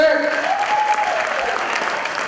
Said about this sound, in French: un applaudissement pour moi bien aimé